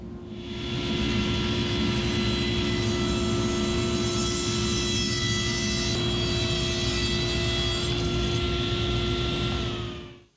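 Table saw running steadily while cutting an inside taper along a wooden table leg on a taper jig, a loud continuous whine with harmonic tones that holds throughout and stops near the end, no talking.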